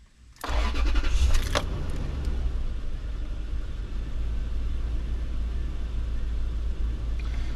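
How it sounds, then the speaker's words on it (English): A 2006 Toyota 4Runner's 4.7L V8 cranks briefly and catches, then settles into a steady, close idle rumble that continues to the end. "and then you start the car."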